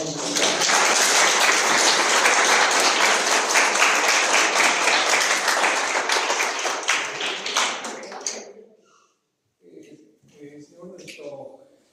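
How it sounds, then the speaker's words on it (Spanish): Loud applause from an audience at a judicial training talk, thanking a doctor, sustained dense clapping for about eight seconds before fading out, followed by a few quiet scattered sounds and faint voices. "Un fuerte aplauso para el doctor"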